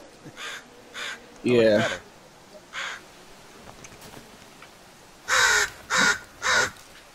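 Crows caw in the video game The Forest, several harsh calls in short bursts, some near and loud in a closing run of three, with a person briefly speaking in between.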